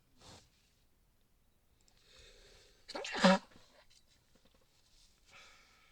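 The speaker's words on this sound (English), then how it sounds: "I tried to mute before I sneezed, but didn't quite reach there in time" A single sharp sneeze bursts out near the middle, preceded by a quiet breath and followed by faint rustling in an otherwise quiet room.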